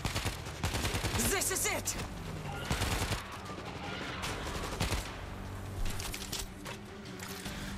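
Assault shotgun fire in the World War Z: Aftermath video game, a loud, dense run of repeated blasts with chaotic battle noise, and someone talking briefly over the shooting.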